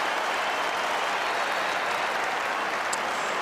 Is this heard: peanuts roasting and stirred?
no